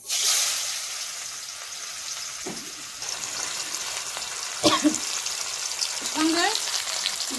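Onions dropped into hot oil tempered with whole cumin seeds and bay leaves, cooking Bengali chitol fish curry, sizzling and frying steadily at close range, with a few brief clinks and stirring sounds.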